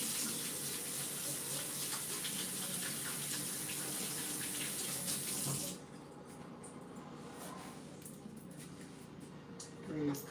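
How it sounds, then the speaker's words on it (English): A kitchen tap runs at a sink as hands are washed, with a steady strong flow of water that eases to a softer stream partway through and a brief clatter at the end. "I'm about to wash my hands because I'm about to make this happen really quick. Washing my hands."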